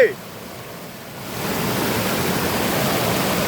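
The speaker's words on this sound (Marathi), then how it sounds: "वाहत पाणी असल्यामुळं" Flowing river water during a Ganpati idol immersion, a broad steady rush that swells louder after the first second and continues close and constant to the end.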